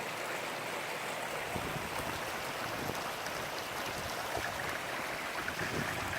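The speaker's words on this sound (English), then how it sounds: "Lots of water come down here off the mountain." A pretty mountain creek carrying plenty of water down from the mountain, a constant soft rushing and burbling flow heard at moderate distance with no voices.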